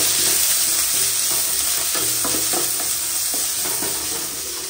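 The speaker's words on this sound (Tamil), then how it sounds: "கருவேப்பிலை கொத்தமல்லி வெங்காயம் எல்லாத்தையும் சேர்த்து வதக்கலாம்." Curry leaves, coriander and onion sautéing in a pan, a loud continuous sizzle of hot oil with repeated scraping strokes of a spoon stirring close up.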